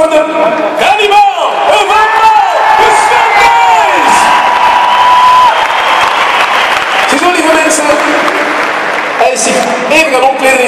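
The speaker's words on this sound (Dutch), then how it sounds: "Nog een keer een applaus voor de... Hannibal!" Audience applause and cheering rise up for Hannibal, a steady wash of clapping and whoops from a lively crowd, with a host's voice talking over it.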